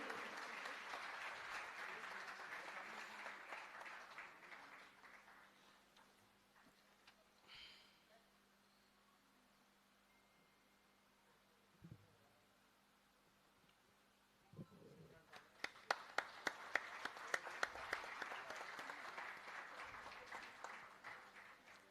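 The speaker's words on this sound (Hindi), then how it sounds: "A big round of applause" An audience applauds at a youth award ceremony: sustained clapping that fades into a quieter stretch, then swells again with sharper, louder claps toward the end.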